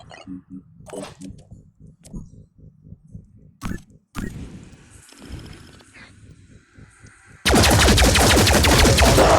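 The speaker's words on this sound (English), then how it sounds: "Remote control your turret so they can get an extra shot." A laser turret in the video game Phoenix Point fires a rapid series of rhythmic zapping bursts, then a sudden loud, sustained blast of noise.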